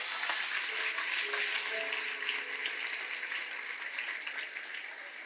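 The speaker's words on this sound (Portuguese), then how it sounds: "Pode aplaudir a Jesus." A church congregation applauds during a service, a dense, steady clatter of many hands clapping at moderate volume that tapers slightly toward the end, with faint voices mixed in.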